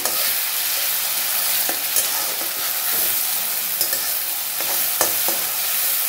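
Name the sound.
ginger garlic chili spice paste being stir-fried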